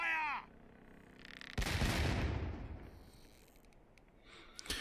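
Ship cannon fire in the naval video game Sea Dogs: To Each His Own, one heavy booming shot that rolls into a long rumbling decay, with a fainter crack near the end and no talk over it.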